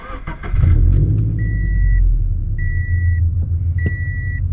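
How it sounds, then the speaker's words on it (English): A tuned Stage 2 FRS running E85 flex fuel cranks and fires up, settling into a steady low idle rumble, while three evenly spaced electronic chimes sound from the cabin. "now we're gonna go ahead and power the car on."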